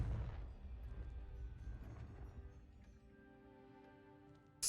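A Confringo fire spell from Hogwarts Legacy blasts with a low, rumbling explosive boom at the start and fades into quieter game ambience.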